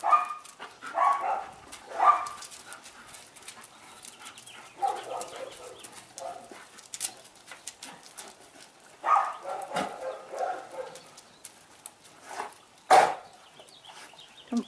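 Dogs, including one named Blue, play rough at come-get-you, fetch-the-bone and keep-away, giving scattered sharp barks and yelps in bursts at moderate distance, with bird calls faintly behind.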